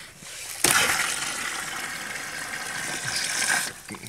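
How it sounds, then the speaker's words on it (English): Water runs from a Topaz float valve in freezing 9°F weather, a sudden strong gush that keeps flowing steadily for about three seconds and then cuts off abruptly, close and without speech. "the water's still running"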